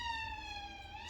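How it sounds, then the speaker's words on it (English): A siren wails steadily in the distance, its tone holding then bending slightly, over a low rumble of traffic. "Excuse the sirens."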